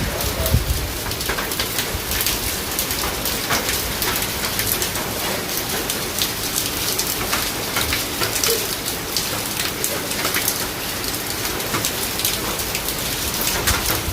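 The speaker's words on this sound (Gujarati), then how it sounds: "બહાર બહુ વરસાદ પણ પડી રહ્યો છે" Heavy rain pours down outside, a dense, steady hiss of drops hitting surfaces that stays loud and unbroken throughout.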